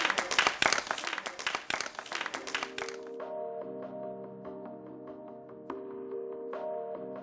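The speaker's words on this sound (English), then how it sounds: "Round of applause, please." A round of applause from a group bursts out loud and dense for about three seconds, then stops, leaving a sustained, quieter musical tone.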